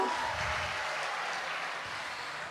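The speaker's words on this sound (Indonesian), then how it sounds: "Boleh kita berikan aplaus yang meriah sekali lagi" An audience at an award ceremony clapping, a dense, even wash of applause from many hands sustained throughout, fairly loud and without pause.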